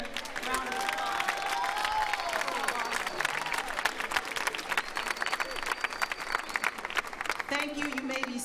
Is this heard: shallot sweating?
no